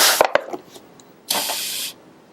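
Air rushes out of a balloon held inside a bottle, a steady broadband hiss lasting about half a second after a few short clicks and taps, close and moderately loud with no talking.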